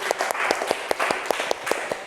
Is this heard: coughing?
no